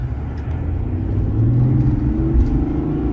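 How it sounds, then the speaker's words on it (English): A 2026 GMC Sierra AT4 diesel pickup with a small Duramax turbo engine drives along, a loud steady engine rumble and road noise that swells slightly as it accelerates. "this turbo spools up pretty quickly"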